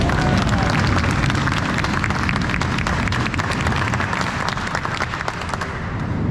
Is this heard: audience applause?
yes